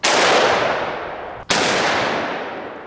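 Two loud, close gunshots are fired at a water fountain, each a sharp crack followed by a long fading reverberant tail, the second coming about a second and a half after the first.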